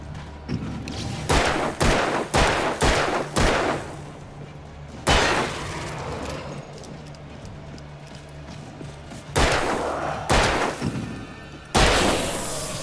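A run of loud revolver gunshots in the video game Alan Wake fires in quick succession, then a pause and a few more widely spaced shots, each with a sharp crack and short decay.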